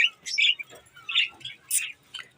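Pet cockatiels and budgies chirp in quick, bright bursts, several short tweets and squawky calls overlapping close by in a lively, irregular pattern with no talking.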